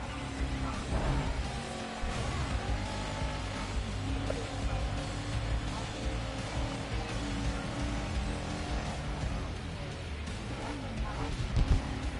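Race cars roar and rev through a race in the video game Grid Legends, engines climbing and shifting over a dense, steady engine drone with faint commentary mixed in.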